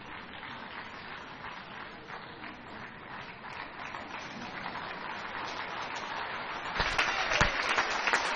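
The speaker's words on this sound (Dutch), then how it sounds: "Diederik krijgt luid applaus hier vanaf de tribune terwijl hij langs de ring naar buiten rijdt." Spectators in the stands at a Grand Prix Kur dressage event give sustained applause for a rider leaving the ring, a dense rain-like clapping heard from a distance that grows louder toward the end.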